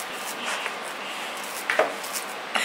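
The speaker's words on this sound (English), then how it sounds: "these ones I'm going to chop a little bit more neatly, just into some nice potato" A knife slices sweet potatoes on a cutting board, giving faint intermittent chopping taps and scrapes, close and quiet, with several sharper cuts near the end.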